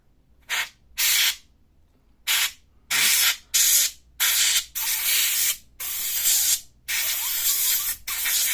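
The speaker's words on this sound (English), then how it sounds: "if you want to clean the fan, I usually use compressed air" Compressed air hisses in short and longer bursts into the cooling fan of an HP 15 laptop, a close, loud spray repeated about nine times with brief gaps of quiet between.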